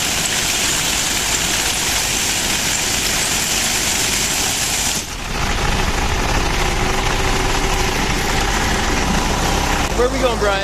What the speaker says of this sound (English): we got another tractor that comes out here